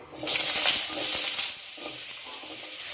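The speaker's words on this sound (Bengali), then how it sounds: "এবার আগে থেকে কেটে রাখা আলুগুলো দিয়ে দেবো জল থেকে তুলে।" Sliced potatoes, lifted from soaking water, drop into hot oil already tempered with dried chillies and five-spice seeds, erupting into a loud, bright sizzle that eases to a steady crackle, with no voices.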